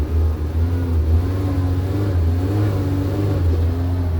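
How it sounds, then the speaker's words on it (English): A 2024 Kawasaki Ridge side-by-side's engine hums low and steady, with its revs fluctuating slightly as it rolls through a ditch, a close continuous drone. "So you can hear the engine kind of fluctuate a little bit now"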